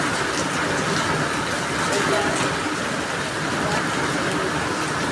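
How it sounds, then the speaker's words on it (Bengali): Heavy monsoon rain pours steadily on the first day of Shraavana over a garden of jasmine, hibiscus and butterfly pea, giving a dense, constant wash of noise that stays loud and even throughout. "প্রচণ্ড জোর বৃষ্টি হচ্ছে।"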